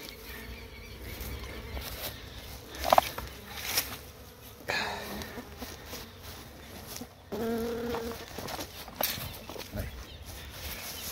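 Honeybees at a nucleus hive box buzz in a constant close drone, with brief handling knocks and rustles as the colony is opened.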